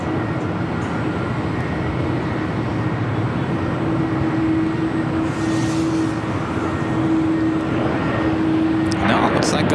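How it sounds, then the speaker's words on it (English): A United Boeing Dreamliner airliner taxis at LAX, a distant, steady engine rumble and whine running continuously as background under other sounds. "Maybe the United Dreamliner flight that was heading to Tokyo Narita,"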